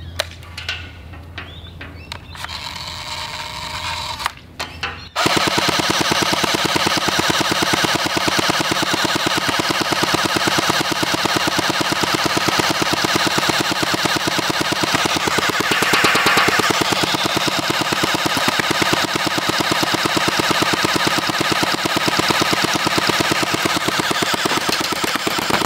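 A Sig 552 Commando gel ball blaster fires on full auto in one long, rapid, even stream of clattering shots, loud and close, after a few seconds of quieter handling noise.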